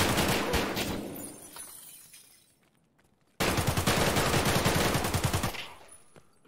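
Gunfire in Escape from Tarkov: a loud, dense volley of shots fades into a brief silence, then a second sharp, sustained burst of blasts trails off.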